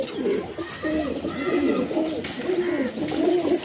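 Domestic pigeons, Andhra breed males and females kept for sale at a home loft, coo repeatedly in low rolling phrases, close and fairly loud, with a steady rhythm of overlapping calls and faint background sounds.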